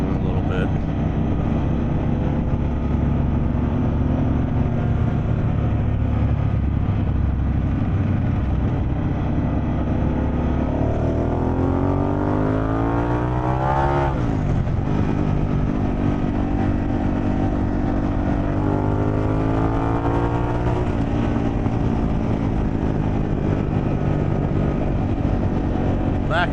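A Harley-Davidson Pan America motorcycle fitted with a Vance & Hines exhaust drones loudly and steadily at close range, with a rising then falling rev sweep midway as it accelerates and passes.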